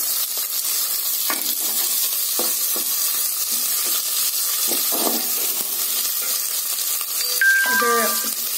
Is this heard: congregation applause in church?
no